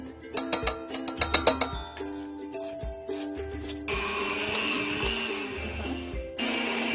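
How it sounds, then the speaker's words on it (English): An electric blender starts on a mix of mashed potato, cheese, butter and milk: first clattering knocks and jingles, then a steady motor whir that shifts into a harsher, louder blending roar, close by. "we are going to blend this up to get an even smoother texture and even consistency"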